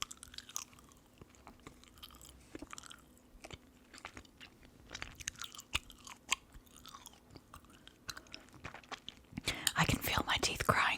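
Soft, close, wet chewing of chewy caramel Halloween candy with a little icing center, whispered ASMR style, with faint smacks and a louder burst of crunching near the end, and a whispering voice throughout.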